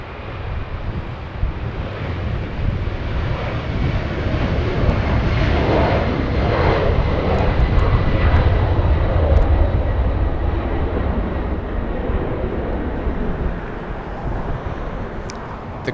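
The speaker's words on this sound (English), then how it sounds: "Delta 331 flying to Honolulu, a 767 getting a move on" A Delta Boeing 767 bound for Honolulu takes off from LAX with a loud, steady roar of jet engines. The noise swells and holds for the whole stretch, with no voices over it.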